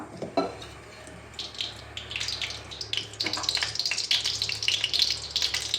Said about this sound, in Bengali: এবার কড়াতে তেল দিয়ে দিলাম অল্প।